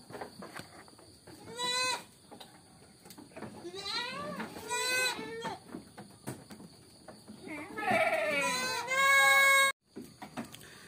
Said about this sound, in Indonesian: Nah ini kambing pertama yang akan kita perah